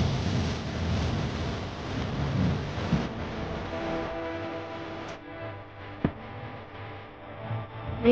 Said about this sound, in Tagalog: Ang mahangin.